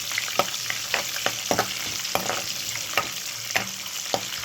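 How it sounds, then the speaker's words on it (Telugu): Green chillies frying in a pan of curry base, a steady close sizzle broken by repeated sharp scraping strokes of a spoon stirring, with no voices. "ఇప్పుడు పచ్చిమిరపకాయలు వేస్తాను."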